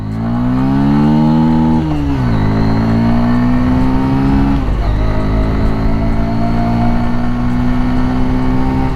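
A Bajaj Pulsar 125 motorcycle launches from a standstill, its exhaust note climbing through the gears with clear revving and shift drops, loud and close, and no talking over it.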